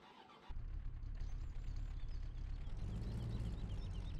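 A car engine in Farming Simulator 17 kicks in and settles into a steady, even running hum that holds without a break, close and moderately quiet.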